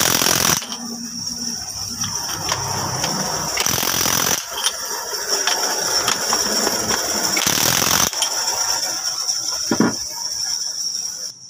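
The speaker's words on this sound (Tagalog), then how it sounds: "Mano-mano lang ito. Kailangan dito ay ratchet." Hand ratchet wrench turning a nozzle tip, with rapid rattling pawl clicks in bursts over a steady high mechanical whine, close and fairly loud.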